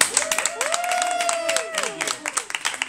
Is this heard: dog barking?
no